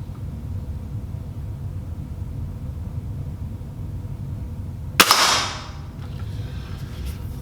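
A single sharp, loud Ruger Blackhawk revolver shot cracks out against a 3/4 inch pine target, with a brief ringing decay after a quiet outdoor background.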